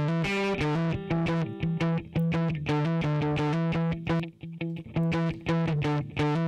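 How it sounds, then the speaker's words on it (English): Distortion from the Waves Manny Marroquin plug-in colors a steady, loud musical loop, giving gritty harmonic saturation to repeated rhythmic notes with no talking. "If you want more distortion on the tail, you can do that."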